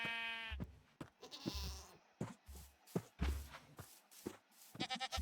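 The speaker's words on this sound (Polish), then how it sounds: "I kozy są w pierwszym odcinku kozy!" Goats bleat repeatedly in Minecraft 1.17, several nasal, wavering cries in a row, fairly close and clear, alternating with short blocky game sounds such as footsteps and thuds.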